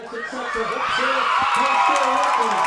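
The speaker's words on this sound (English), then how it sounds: "Listen to the crowd go wild." Crowd at a high school varsity football game cheering and shouting as time expires on a win, a broad, swelling roar with whoops, heard alongside a close announcer's voice.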